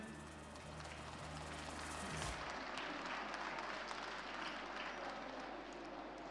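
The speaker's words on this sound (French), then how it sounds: "vos applaudissements, s'il vous plaît" Crowd in the stands applauding the breeders at a Limousin cattle show, a steady wash of clapping that follows a low rumbling noise which cuts off early on.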